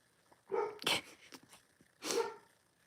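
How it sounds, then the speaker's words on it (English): A dog barks twice, close and fairly loud, with a gap of about a second between the sharp barks. "What are you barking about?"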